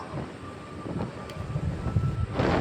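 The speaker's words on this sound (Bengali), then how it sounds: "বেশ ফুরফুরে হাওয়া।" Outdoor breeze buffeting the microphone as a steady, fairly loud rumbling wind noise, swelling and gusting stronger near the end with no talk.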